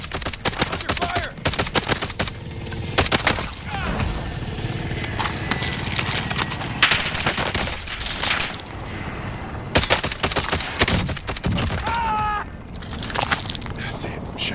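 Video game gunfire crackles in rapid bursts and scattered single shots across the whole stretch, loud and near, mixed with other game noises and occasional talk.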